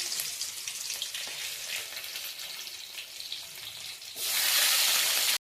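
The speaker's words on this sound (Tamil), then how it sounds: "வெந்தயமும் பொரியட்டும்." Fenugreek and mustard seeds frying in hot oil give a continuous close crackling sizzle, which swells suddenly into a louder, denser hiss for the last second.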